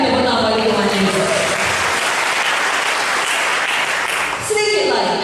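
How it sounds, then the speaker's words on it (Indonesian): Loud, sustained applause fills a church service from start to finish, a dense wash of clapping with a brief dip near the end before it swells again. "Berikan tepuk tangan bagi Tuhan Yesus."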